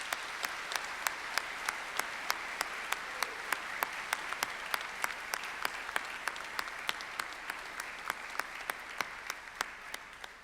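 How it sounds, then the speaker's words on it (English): Audience applause at a Monash University graduation ceremony, a steady dense clapping from a large hall crowd that holds evenly for about ten seconds with no voices over it. "I now ask the members of the audience to applaud your accomplishments."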